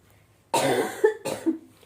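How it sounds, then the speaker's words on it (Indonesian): Two harsh, close coughs during a podcast, the second shorter, after a moment of near silence. "Aduh, maaf ya, masih batuk-batuk ini."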